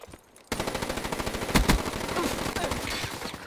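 Rapid automatic gunfire from Call of Duty Black Ops 3 bursts in abruptly and keeps hammering, loud and close, with a heavier blast partway through.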